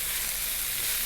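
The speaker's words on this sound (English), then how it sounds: "That's your rice frying" Cooked cold rice fries in a hot pan over high heat, a loud, continuous hissing sizzle close up, steady throughout with no voices.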